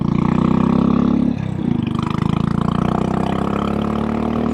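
A Royal Enfield Classic 500 single-cylinder motorcycle thumps loudly and steadily on a highway run, with a brief dip as the rider shifts gear before the throbbing, pulsing engine note resumes.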